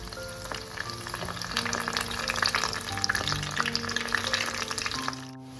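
Spoonfuls of pakora batter fry in hot oil for kadhi pakora, a dense crackling sizzle that swells in the middle and fades toward the end, with faint clinks from the spoon.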